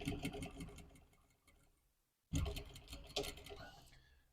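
A sewing machine runs a stay stitch along a hoodie pocket, heard as quiet, rapid mechanical ticking in two short runs separated by a brief pause.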